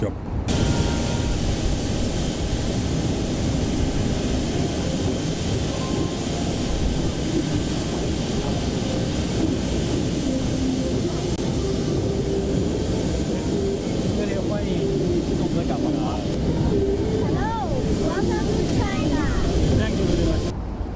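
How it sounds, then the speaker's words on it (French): A passenger airplane landing at Beijing international airport gives a constant, loud roar of jet engines that stays steady throughout, with a voice talking over it. "l'avion du président de la transition a atterri à l'aéroport international de Beijing"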